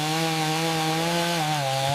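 A chainsaw felling an oud tree being harvested for its resinous wood, a steady droning engine whine holding one pitch, then dipping slightly as it bites, heard close and alone.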